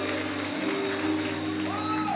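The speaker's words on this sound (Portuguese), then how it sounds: "Você pode dar uma salva de palmas bem forte." A church congregation claps and cheers loudly during an Easter Sunday service, a dense, continuous wash of applause and voices with no pauses.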